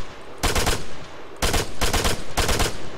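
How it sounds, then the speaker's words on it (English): Bursts of automatic gunfire in the military shooter Arma 3, three loud rapid volleys in about three seconds, close and dense, with no talk over them. "Is that you shooting right now? Yeah, I'm shooting."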